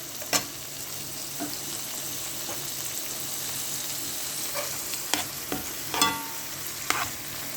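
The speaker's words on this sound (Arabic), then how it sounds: "البصاره بتتسبك مع بعضها، واحنا كده مستنيينها تاخد غلوه حلوه، مستنيين الثوم يحمر" Bessara, a crushed fava bean dish, simmering in a pan while garlic fries, giving a steady close sizzle with occasional sharp scrapes and clinks of a spoon stirring.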